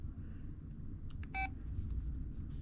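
A single short electronic tone sounds from a keypad press on an LG VM101 mobile phone, a brief clean beep standing out over a quiet low room hum, with no one speaking.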